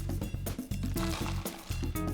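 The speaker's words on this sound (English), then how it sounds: "And the warm vinaigrette, it's sweet and it's sour from the vinegar. Just pour it all over." Warm vinaigrette of vinegar dressing is poured over a crunchy noodle salad with walnuts and grated Parmesan, giving a soft liquid splashing and dribbling, close and fairly quiet, with background music and no talking.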